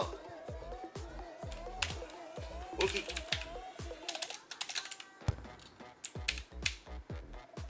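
Rapid computer keyboard key presses clatter in irregular bursts during a FIFA Online 4 match, close and fairly loud, with someone talking over game sounds.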